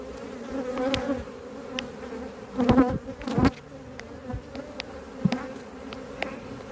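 Honey bees buzzing around a small nucleus colony made up from a larger hive, a steady low hum with individual bees zipping close past at intervals.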